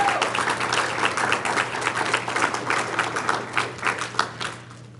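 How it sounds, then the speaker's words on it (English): Audience at a general meeting applauding, a full round of crisp clapping that thins toward the end, with faint voices underneath. "I just want you to give them a round of applause"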